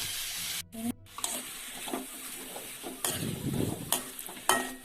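Onions sauté with salt in a pan, a close, uneven sizzle broken by scraping stirs and a few short clatters of the spoon, with no voices.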